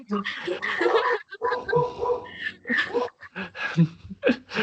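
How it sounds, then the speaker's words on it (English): A dog barks and whines at a squirrel somewhere in the background of an indoor online meeting, yelping in irregular bursts while people keep talking over it. "The dog saw a squirrel."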